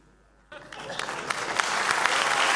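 Applause from the audience at a hacker congress talk on computing and copyright breaks out abruptly after a quiet moment and keeps building into steady, dense clapping.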